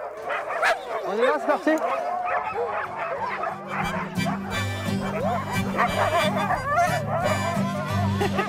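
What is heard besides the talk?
harnessed sled dogs yapping and barking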